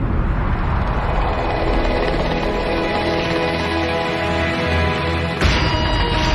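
A chartered Russian helicopter comes in to land near Kazan, its rotor and turbine roar loud and continuous with a whining tone, shifting sharply near the end; no voices.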